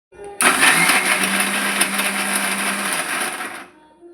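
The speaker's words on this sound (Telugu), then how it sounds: "ఇవి ఇప్పుడు మిక్సీ పట్టాలి." A kitchen mixer grinder blends hibiscus leaves and orange pieces into a thick hair pack paste, a loud, steady, high-pitched motor whir that starts abruptly, runs for about three seconds, then winds down, close up with no talking.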